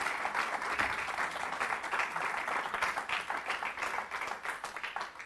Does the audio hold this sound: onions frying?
no